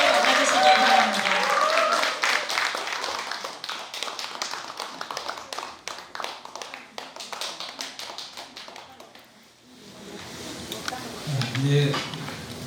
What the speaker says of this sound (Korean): 여러분 큰 박수로 스님을 맞아주시기 바랍니다.